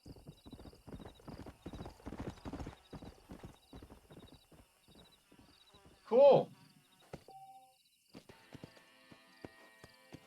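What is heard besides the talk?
stallion horse hooves and whinny, video game Red Dead Redemption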